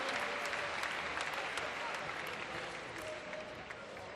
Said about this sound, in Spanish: Por favor, un fuerte aplauso, más fuerte todavía.